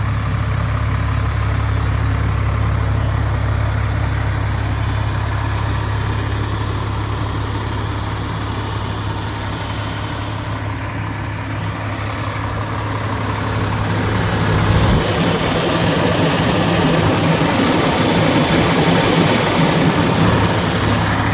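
Diesel engine of a 2007 Tiffin Phaeton 40QSH quad-slide motorhome idling steadily, a loud, continuous low rumble that stays even for the whole stretch, with a slight swell near the end and no talk over it.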